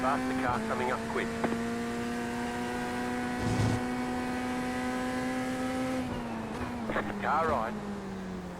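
Race car engines in iRacing at Daytona, a video game: a steady high engine whine holds for several seconds, then shifts pitch as a faster car closes in quickly, with short speech bursts over it.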